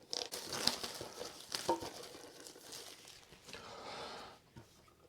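Plastic wrap being peeled off a Steelbook 4K Blu-ray of The Crow crinkles and crackles up close in quiet, irregular bursts with soft rustling between.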